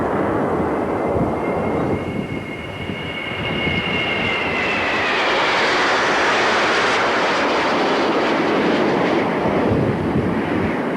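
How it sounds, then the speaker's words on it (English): A high-speed jet aerobatic trainer flying at a 1990s airshow, heard as a loud, steady roar that builds into a high whine and then sweeps lower as the aircraft passes, with no voices. "the aeroplane presents the ideal high-speed aerobatic trainer"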